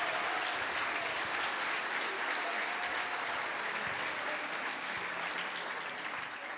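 Steady audience applause fills a campaign launch meeting for the Demain Toulouse list, a dense, even wash of many hands clapping that holds at constant loudness throughout, fairly close, with no voices over it.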